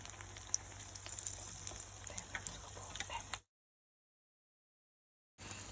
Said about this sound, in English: So we have to fry this Medu Vada until it becomes light brown and very crispy